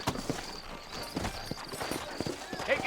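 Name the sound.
horses clip-clopping, from video game Red Dead Redemption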